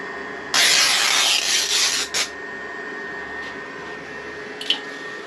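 A thin abrasive strip rasps against a shaped knife handle, one loud sustained stretch of sanding followed by a few short strokes over a steady background hum.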